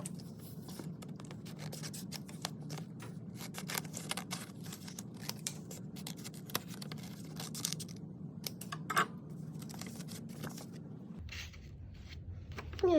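Scissors snip through paper to cut out an initial letter, producing a quiet, close series of short crisp cutting and rustling sounds over a low steady room hum.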